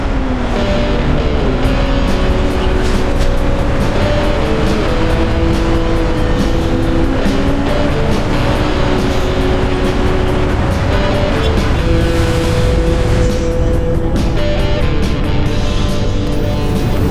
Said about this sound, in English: Welcome to Mobile traffic.